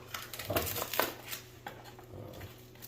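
An Instant Pot being handled for slow cooking: a few close, hard knocks and clunks of the pot and lid being moved, irregular and fairly quiet, over a low steady hum.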